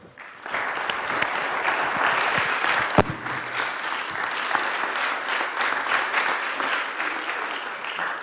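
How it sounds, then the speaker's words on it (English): Sustained applause from a sizable crowd, steady and dense throughout, with one sharper clap standing out near the middle. "They did an excellent job and they deserve warm applause."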